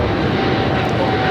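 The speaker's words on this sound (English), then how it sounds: "This is Turkish Airlines Flight 180 taking off to Istanbul on the 777-300ER." Turkish Airlines Boeing 777-300ER taking off at LAX, a loud steady jet roar filling the moment without any break.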